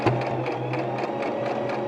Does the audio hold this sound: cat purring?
no